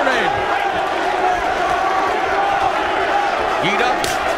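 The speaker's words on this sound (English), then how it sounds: "the crowd trying to rally Ghita with chants of his surname" Arena crowd at a GLORY kickboxing event in Chicago chants a fighter's surname in a loud, rhythmic roar that runs continuously, with a commentator talking over the noise.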